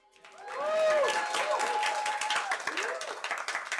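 A crowd bursts into applause with cheers and whoops, clapping swelling quickly and continuing steadily for several seconds.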